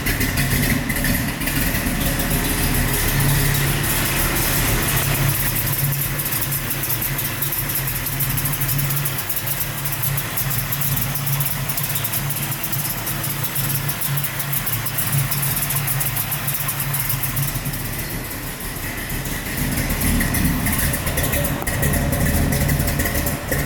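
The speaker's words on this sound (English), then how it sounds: "I don't want to rev it up too much because it is a cold start." A 1969 Camaro with a 383 stroker V8 idling on a cold start, a steady, loud low rumble with a lumpy, uneven beat that continues throughout, no voices.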